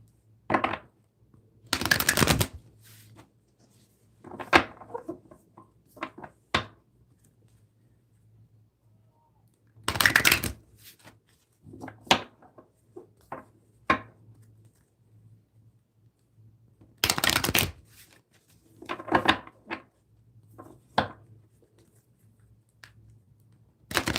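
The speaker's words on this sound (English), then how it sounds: "Let's shuffle these ones up real quick." Tarot cards being shuffled come as sharp riffles and taps in scattered bursts with quiet pauses between them, close and fairly crisp, over a low steady hum.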